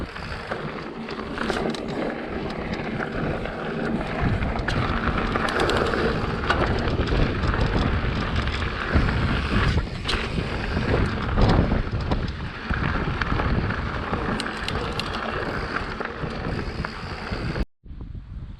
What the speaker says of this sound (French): Ah, il n'y aurait pas ce petit vent là.